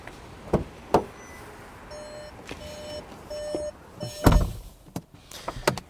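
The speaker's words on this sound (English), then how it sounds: "you really have to slam the door, otherwise it will not close" Several solid thuds and a loud car door slam, interspersed with repeated electronic chime beeps from the vehicle, a 2020 Volkswagen Jetta or 2021 Hyundai Elantra, fairly close.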